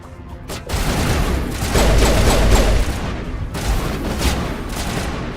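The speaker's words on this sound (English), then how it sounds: "Shooting." Heavy gunfire from the video game Mass Effect roars in dense, continuous bursts with booming impacts, loud and close throughout.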